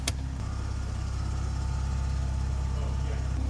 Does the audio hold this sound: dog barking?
no